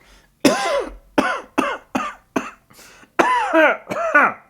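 A run of about eight harsh, raspy coughs in quick bursts, close to the listener, with short gaps between them.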